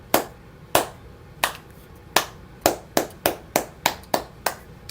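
A small studio audience gives a round of applause on a hockey talk show, a dozen or so separate sharp claps of irregular timing, close and distinct rather than a dense crowd.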